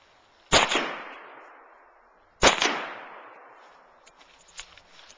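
Two sharp gunshots crack outdoors about two seconds apart, each with a short echoing tail, followed by faint scattered noises.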